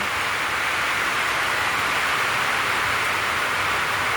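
Heavy rain pours down in a steady, dense hiss that holds even and loud throughout, with no voices or other sounds breaking through.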